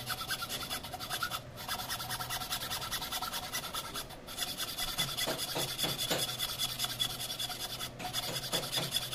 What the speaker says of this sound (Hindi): इसको फाइल से बढ़िया अच्छी तरीके से एकदम घिस